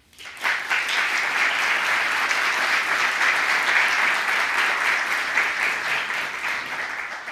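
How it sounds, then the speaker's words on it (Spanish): An audience at a welcome event cheers the arrival of the mayor of Valencia with a sustained round of clapping that swells in after a brief pause and stays thick and even throughout. "Un aplauso para ella"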